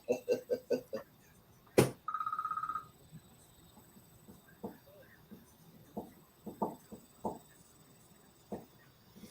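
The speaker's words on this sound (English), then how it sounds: "my phone keeps ringing" A phone ringing indoors during a live sports-picks broadcast: a quick run of repeated electronic trills at the start, then one sharp click and a short steady buzzing ring, followed by scattered faint knocks and taps.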